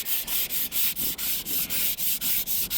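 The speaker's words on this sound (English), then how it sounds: "You can just keep sanding" Sandpaper rubbing a wet guide coat on the fiberglass hood of a Humvee H1, a close rhythmic scratch of about a dozen even back-and-forth strokes with brief pauses between, no talking.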